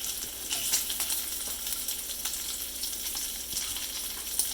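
Bacon sizzling steadily in a pan for a breakfast, a dense crackling fry with small pops scattered throughout, close and fairly loud, with no talking.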